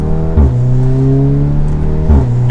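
An Audi S3 engine pulls hard under acceleration, its steady droning note rising with a brief gear-change dip partway through, close and loud with no talking.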